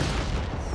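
Fireworks going off in Marvel's Spider-Man 2, a dense, continuous rumble of low booms and crackle filling the whole moment.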